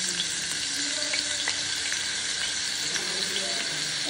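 Ginger sizzles in hot oil in a pan, a steady, dense hiss at close range with faint clinks and no talking.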